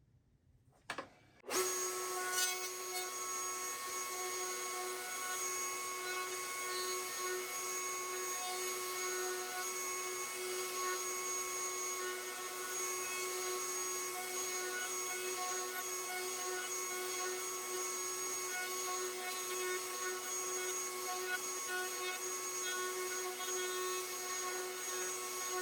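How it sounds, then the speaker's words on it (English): A router fitted with a 1/4 inch roundover bit shapes small wooden knobs, switching on after a brief quiet moment and then whining at a steady high pitch, close and continuous. "In here, I got a 1/4 inch Roundover bit."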